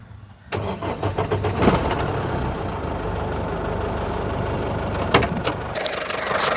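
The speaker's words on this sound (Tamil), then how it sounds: "இப்போ வந்து என்ஜினை நம்ம ஸ்டார்ட் பண்ணி பார்க்கலாம்." A Tata Sumo Gold's engine cranks and catches after about half a second, then settles into a steady, close, rumbling idle with no talking.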